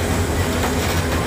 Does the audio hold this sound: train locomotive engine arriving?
yes